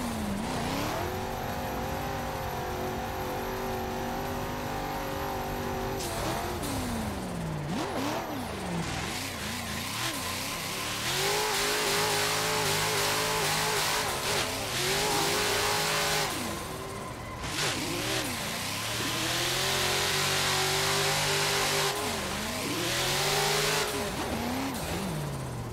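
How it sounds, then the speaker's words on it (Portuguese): A BMW E92 Eurofighter drift car in a racing video game, its engine revving hard and steadily, rising and falling through gear changes and slides, loud and close with no talk over it. "Vamos lá, primeira volta de BMW E92 Eurofighter."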